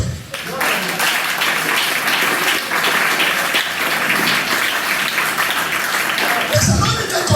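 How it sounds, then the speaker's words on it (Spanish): A church congregation bursts into applause during a sermon, a thick wash of clapping with scattered voices mixed in, ending in a brief fade near the close. "Dale un aplauso."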